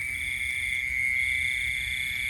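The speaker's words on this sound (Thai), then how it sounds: "เสียงกบเสียงเขียดเด้อ" After heavy rain near Vientiane, frogs call in a dense, steady chorus that hums continuously at moderate loudness, with a constant high trill running through it.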